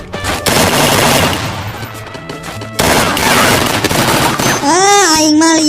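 Gunfire in the video game Free Fire, loud dense bursts of rapid shots filling most of the stretch, broken by a short lull, with a rising warbling tone at the end.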